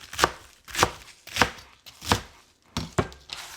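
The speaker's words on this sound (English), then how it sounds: "I'm just gonna go ahead and chop this up for my salad" A knife chops rinsed lettuce leaves into bite-sized pieces for a keto salad, landing six distinct crisp thuds on a cutting board at an even, unhurried pace, close up with no talking.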